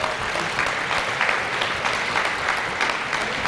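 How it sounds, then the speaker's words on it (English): An audience applauds police officers at a 5th District police award ceremony, a steady dense wash of many hands clapping close by that runs unbroken from start to finish. "Let's give them another round of applause."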